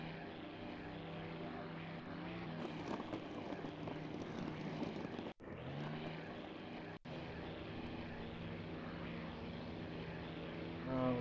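Hawker Hurricane fighter plane engines roar steadily and loudly in IL-2 Sturmovik 1946, a dense propeller drone with two very brief dropouts partway through.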